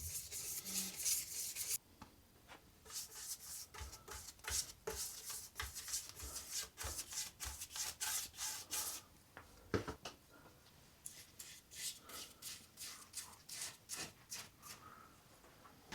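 Rag or cloth rubbing beeswax oil, thinned half-and-half with white spirit, into a wooden mid-century style coffee table top, heard as close, repeated rhythmic swishing strokes with brief pauses between passes.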